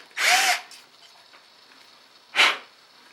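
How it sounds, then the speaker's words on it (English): A power drill bores a pilot hole for a screw shaft into a wooden block while building a swivel breech rifle, heard as two close, loud bursts, the first longer and the second brief. "all we've done there is just drilled for the shaft of the screw"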